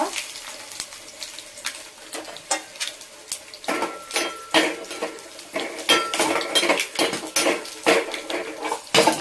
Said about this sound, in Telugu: ఇలాగే ఎల్లుల్లిపాయలు తొక్కతో ఇలా కొట్టేసుకుంటే బాగుంటుంది అన్నమాట.